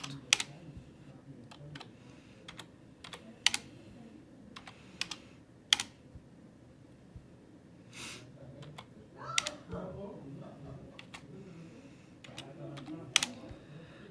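Computer keyboard typed on as amounts are entered and Enter is pressed: sparse, irregular keystrokes with a few louder clacks, near and fairly soft, while a voice murmurs in the background.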